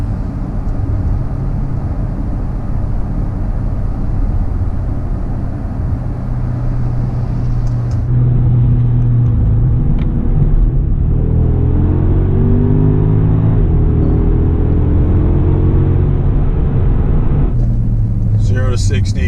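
Porsche Panamera Turbo S tuned with a Racechip GTS Black, accelerating hard from a standstill in sport mode; a loud interior engine roar climbing through rising gear sweeps, with someone talking over it.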